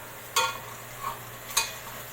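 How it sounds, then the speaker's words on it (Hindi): Chopped garlic fries in oil for chicken charga under a low, even sizzle, with two sharp utensil scrapes of stirring and a softer one between them, close and moderately quiet. "अब हम इसके अंदर लहसुन डालेंगे जिसे हमने ब्रेक ब्रेक काट लिया था। हम इसे कलर चेंज होने तक पकाएंगे।"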